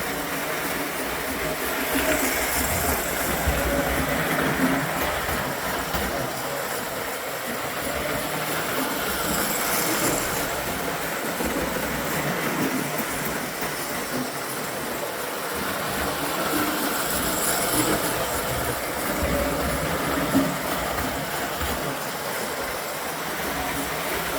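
A vintage Lionel Standard Gauge 384 model train engine from about 1931 runs continuously, a steady mechanical whir and rattle of wheels on track, fairly close and loud throughout.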